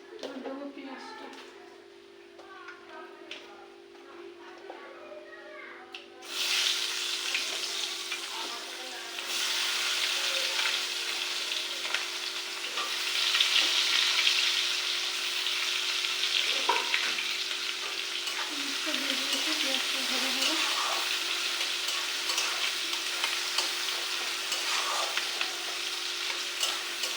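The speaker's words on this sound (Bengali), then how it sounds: "পেঁয়াজটা ভাজা হয়ে গেছে।" Onions frying and being stirred in a pan, a steady sizzle that swells louder after the first few seconds, with occasional scrapes of stirring and faint background sounds.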